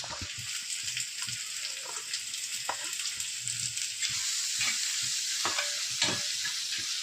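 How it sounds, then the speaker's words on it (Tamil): Onions sizzle and crackle steadily in hot oil, sautéing until golden for a pepper prawn fry, with occasional stirring scrapes and pops, close and fairly quiet. "அதில் நறுக்கி வச்சா வெங்காயத்தை போட்டுடணும் வெங்காயம் கொஞ்சம் வதங்கட்டும்"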